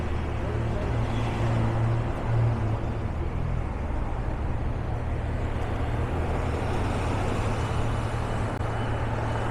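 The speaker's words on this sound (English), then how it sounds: "This is the number 5 Robson bus." Number 5 Robson bus idling and moving in Vancouver street traffic, a steady low engine drone with broadband road noise throughout, close and continuous.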